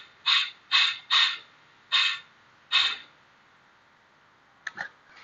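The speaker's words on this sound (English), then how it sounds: "Close the butterfly valve a little bit." A declutchable butterfly valve with a positioner is closed partway, producing five short, sharp hissing creaks spaced about half a second to a second apart, followed by a couple of faint clicks.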